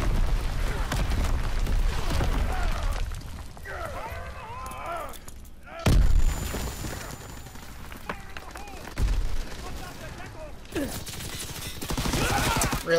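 Division artillery in the WW2 game HardPoint sounds as repeated heavy blasts and rumbling gunfire, with a few sharp loud impacts, alternating with game voice callouts.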